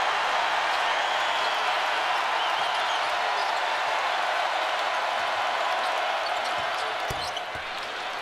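A basketball arena crowd roars in a loud, sustained wall of cheering that holds steady for several seconds and eases slightly near the end, with faint commentary underneath.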